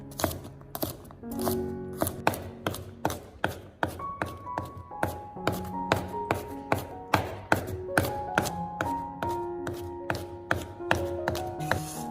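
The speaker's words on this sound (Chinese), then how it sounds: "再准备1小把的大蒜，把大蒜切成蒜末。" A knife minces a small handful of garlic on a cutting board in quick, even, close chops that keep a steady rhythm for several seconds. Light tonal music plays underneath, and there is no talking.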